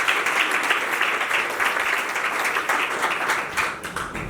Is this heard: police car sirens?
no